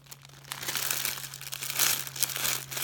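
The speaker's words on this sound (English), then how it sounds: "I love that crinkly sound" Crinkly plastic wrapping rustles and crackles up close as it is handled and pulled open, steady and fairly soft.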